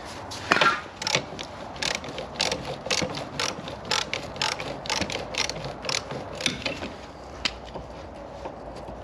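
Ratchet wrench undoing a bolt on a Toyota Hilux chassis under repair, a steady run of rapid close metallic clicks throughout with no talking.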